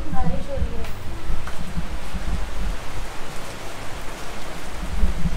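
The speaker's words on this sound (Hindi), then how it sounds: "अभी तो बारिश हो रही है क्या?" Steady rain falls on a Sunday, a dense broadband patter that is constant and fairly loud, with low rumbling bumps and faint murmured voices mixed underneath.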